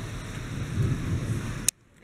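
Rain falls outside as a steady broadband hiss with low rumbling, continuous and fairly loud, then cutting off abruptly near the end.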